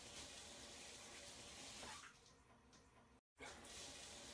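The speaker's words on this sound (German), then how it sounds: "Okay, wir können duschen." Steady shower water running in a toilet simulator video game, a continuous hiss that drops slightly partway, cuts out briefly, then resumes, faint with no voices.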